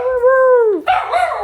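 A dog gives a loud, close drawn-out howl that slides down in pitch, then breaks into a rough yelping bark.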